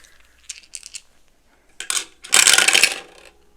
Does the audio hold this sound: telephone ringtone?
no